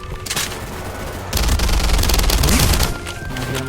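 Rapid gunfire from weapons in the shooter game Weird Gun Game, a loud sustained burst of close shots with dense, overlapping reports that swell midway and carry on to the end.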